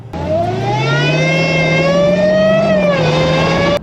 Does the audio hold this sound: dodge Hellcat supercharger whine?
yes